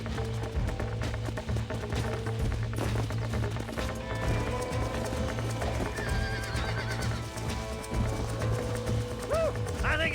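Horse hooves clip-clop at a gallop with whinnies and neighs in Red Dead Redemption, steady and close over a constant game soundscape with music, and no speech over it.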